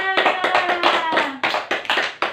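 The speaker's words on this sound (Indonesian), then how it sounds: "Oke, tepuk tangan buat semuanya." Students in a third-grade microteaching class clap their hands together, a loud, fast run of claps in several bursts with short gaps between them.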